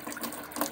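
A faucet runs hot water in a 2009 Kingston RV, a brief soft gush of steady splashing flow, fairly faint and close, with no voices.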